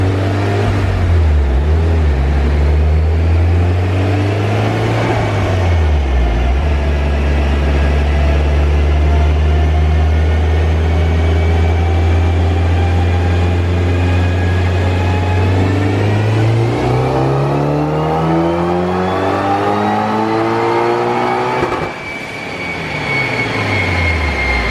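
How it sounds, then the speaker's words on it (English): A Mitsubishi Evo 5 all-wheel-drive car on a Mustang dyno, engine revving loud and close through a long sweep, pitch climbing steadily with a drop and brief lift near the end. "It's so weird to see all four wheels spin on the dyno."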